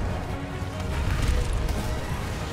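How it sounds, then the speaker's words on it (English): Explosion from blast blight in Monster Hunter World: Iceborne, a dense booming crash with sustained low rumble and scattered impacts throughout, loud and close, mixed with ongoing game combat noise. "Ooh, explosion."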